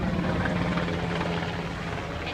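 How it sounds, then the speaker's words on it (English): A helicopter passes in steady droning flight, a continuous low rotor and engine hum that stays fairly faint and even throughout, with no talk over it. "on his helicopter"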